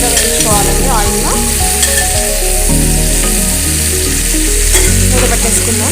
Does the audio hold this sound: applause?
no